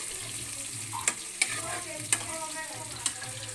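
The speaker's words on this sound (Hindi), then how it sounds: "ओनियन हल्की गोल्डन ब्राउन होने तक हम इनको भूनेंगे। तेज आंच पे ही बनाएंगे।" Onions frying on a high flame for chole, a steady sizzle under four sharp spatula scrapes and clicks spaced irregularly, close and moderately loud.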